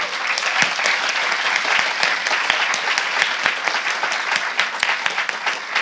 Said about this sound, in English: So big applause to the research team.